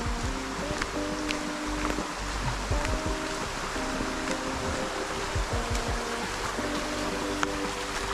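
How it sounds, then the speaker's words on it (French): River water near Cairns flowing in a steady, continuous rush, loud and close, with a faint hum and some scattered rustles underneath. "on va aller voir un peu la rivière et tout"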